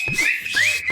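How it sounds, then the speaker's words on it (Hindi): A shrill whistle is blown in two or three rising chirps, loud and close, with rustling and muffled noise underneath. "सीटी बजाओ।"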